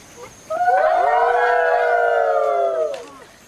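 A sustained chorus of wolf-pack howls performed by imitating voices, several overlapping long wavering tones swelling loudly together for a few seconds before fading.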